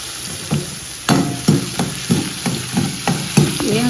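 A soaked ingredient fries in a pan under a steady hiss, while a spoon stirs it in regular scraping knocks about twice a second, close and fairly loud, with no talking.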